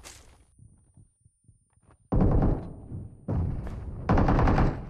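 Bursts of gunfire in the mobile battle-royale game PUBG Mobile: after a quiet stretch of faint thuds, three loud sustained volleys of rapid automatic shots ring out, close and dominant.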